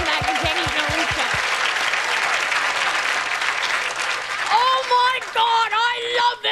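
A stand-up comedy audience breaks into loud, sustained applause after the comedian asks them to clap, then the clapping fades as the comedian talks again.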